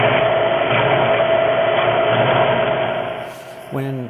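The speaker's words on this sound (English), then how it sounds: "in the milling machine, we're going to spot some holes and then drill and tap the holes" Milling machine running steadily while spotting holes in a steel base plate, a continuous mechanical drone with a steady whine that eases off near the end and ends in a brief knock.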